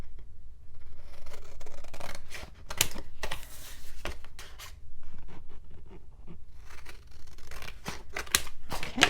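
Scissors snip through paper being trimmed at an angle for a handmade mini album project book, a run of sharp, close cuts in quick bursts with brief pauses between strokes.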